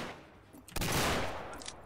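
A coach gun blasts in a Saloon TE 2022 Crazy versus Gazelle Drivers match: one loud, close shotgun burst that rings on and then trails away. There is no talk.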